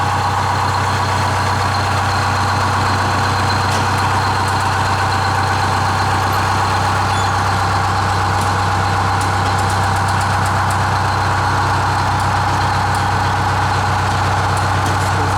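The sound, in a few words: 1953 Mack bus engine idling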